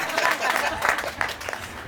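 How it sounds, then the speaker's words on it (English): Applause from the audience at a municipal energy media briefing held by an executive mayor, a steady patter of clapping with a voice talking over it throughout. "Can you clap hands for Sam?"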